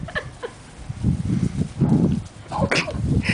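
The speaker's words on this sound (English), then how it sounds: "She's growling." A Bengal cat holding a caught bird gives low, rumbling growls in uneven bursts, close by, mixed with faint background voices.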